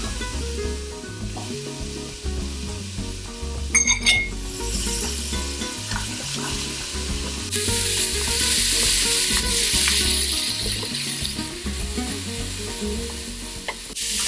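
Chopped carrots and onions sauté in a pot with a steady, loud sizzle, joined by stirring scrapes and occasional clinks of a utensil against the pot, with no talking.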